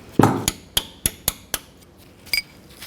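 Metal-on-metal strikes ring out as a hammer drives a punch to knock a piece out of a 2006-12 Toyota RAV4 front wheel hub: about seven sharp, close taps, roughly evenly spaced, with a quick double hit near the end.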